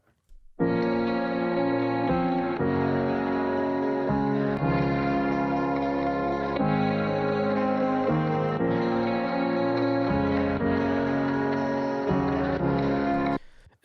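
Layered guitar patterns playing over sustained piano chords in a studio-produced electronic track, a steady, dense, reverberant texture with regular chord changes every second or two, loud and continuous with no voices.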